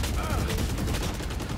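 Rapid gunfire penetrates a wall in the tactical shooter Valorant, a dense continuous burst of shots filling the clip at close range.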